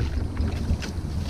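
Small boat paddled across a retention pond, low watery churning and paddle swishes under steady wind buffeting the microphone, close and continuous, with no talk.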